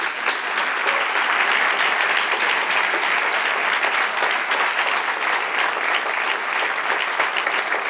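A church congregation applauds during an evening service, with steady, full clapping from many hands that continues evenly for the whole stretch without pause.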